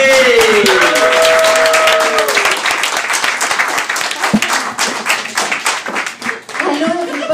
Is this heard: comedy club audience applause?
yes